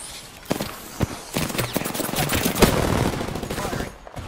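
Rapid bursts of automatic gunfire ring out in an Apex Legends bunker fight, loud and dense with a few separate shots first, then sustained rattling before it cuts off.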